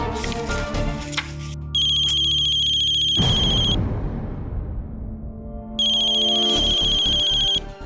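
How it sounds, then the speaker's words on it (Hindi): A telephone rings back on an outgoing call in two bright, electronic ring bursts separated by a pause, over a background of dramatic music and noise. "फोन करके देख लेती हूँ।"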